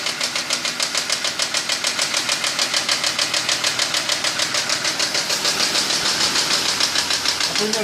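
A warmed-up BMW M54B25 inline-six idles with a rapid, regular knock that taps in an even rhythm throughout. The engine is heard up close and loud, with no talk over it.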